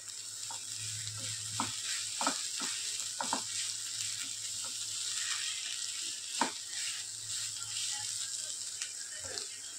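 A wild vegetable (telpat ranbhaji) cooks in a covered pan, giving a steady soft sizzle with occasional clinks and scrapes of stirring and lid handling, close by and without talk.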